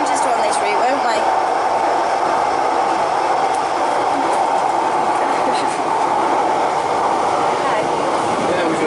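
A Manchester tram runs along its route near the yard, giving a loud, steady rumble of rail transport throughout, with voices talking over it.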